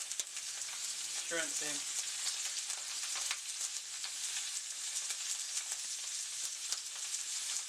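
Blackened salmon fillet sizzles skin side down in a pan previously used for shrimp, a loud, continuous crackling fry with scattered pops and a brief spoken remark early on.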